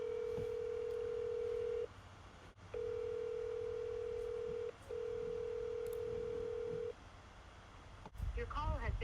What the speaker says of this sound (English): let's call this number first